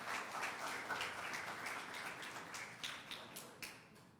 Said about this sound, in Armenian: ծափահարենք Լենային։